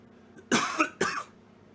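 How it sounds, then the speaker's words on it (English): Two short, sharp coughs close to the mic, one right after the other, with quiet around them. "Sometimes I want to cough a little bit"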